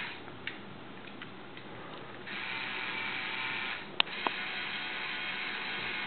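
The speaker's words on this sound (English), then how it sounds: "Switch it on, and this is demonstration of the steering." A LEGO rover's steering mechanism, driven by a medium motor at each steering knuckle, gives a faint steady electric whir with occasional small ticks and a sharper click partway through.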